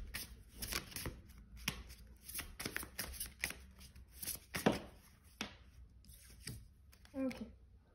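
Oracle cards being shuffled by hand, a repeated papery riffling and sliding in irregular bursts, close and fairly soft, with no voice over it.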